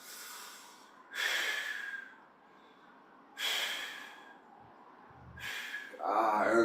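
Deep, slow breaths taken while holding a chest-crossed stretch pose in a yoga and strength session, three loud close breathy exhales with quiet gaps between them.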